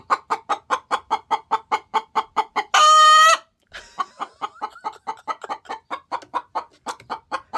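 A bearded olive egger hen laying a green egg clucks in a rapid, rhythmic run, breaks into one loud drawn-out squawk, then resumes quick, close clucking.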